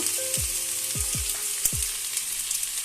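Vegetables cooking down with ginger paste for a Chhath festival vegetable dish, a steady broadband sizzle under a few sharp low spoon-on-pan knocks, close and fairly quiet.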